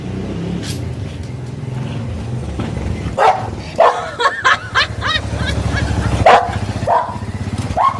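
A pet dog barks in several sharp bursts close by over a steady engine hum, the barks coming in quick irregular clusters in the second half.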